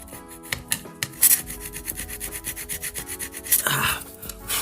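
Thermal epoxy is scraped off a chip inside a D-Link AP7700 access point, giving close, repeated rasping strokes in an uneven rhythm, alone without talk.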